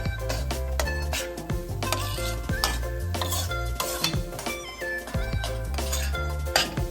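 A spoon or spatula stirs wheat flour roasting in ghee in a pan for Gujarati godpapdi, with soft scraping and light clinks and a faint sizzle under steady background music.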